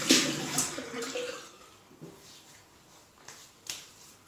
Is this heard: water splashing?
yes